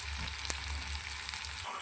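Turmeric, coriander powder and red chilli powder frying in a pan for a country-style chicken curry, a steady low sizzle with a couple of light spoon clicks, close and quiet with no talking.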